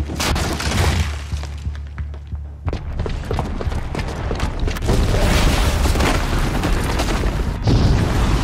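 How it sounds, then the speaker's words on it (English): A bomb explosion in the Horizon Zero Dawn video game: a loud, sustained booming blast with crashing, shattering debris that rolls on for several seconds without any talk. "the booby trap on the bomb downstairs is gonna get set off"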